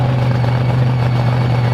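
The Slingshot monster truck engine runs at a Truckfest show, a loud, steady, low rumbling drone that holds constant throughout with no talking.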